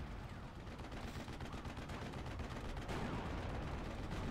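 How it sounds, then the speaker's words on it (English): Artillery shelling in the WWII strategy game Steel Division 1944, a dense rumbling barrage of booms and blasts rolling continuously and growing heavier toward the end. "I've got artillery shelling this to, like, encourage him to not be there"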